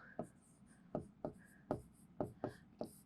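A teacher writes on a board during a class, about eight short, sharp taps and strokes in an irregular rhythm, with faint speech between the strokes.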